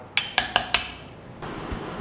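Four sharp, evenly spaced pounding knocks of curry paste being pounded in a mortar ring out, followed by softer scraping and faint clatter.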